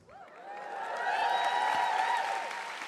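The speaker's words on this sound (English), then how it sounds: "And you are cheering yourself there" A large audience at the Royal Albert Hall cheers and applauds, the roar swelling from quiet to a full, sustained peak and easing slightly at the end, with scattered whoops over dense clapping.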